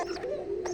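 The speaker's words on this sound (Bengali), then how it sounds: "সেজন্য সে ডাকতেছে।" A Koka pigeon, disturbed, gives a short, close, soft coo that rises and falls, heard alone.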